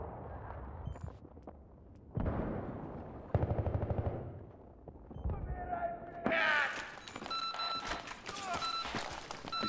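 Gunfire during a competitive 4v4 video game finals match, with bursts of rapid shots, footsteps and bright game effects in the background, while players talk over it.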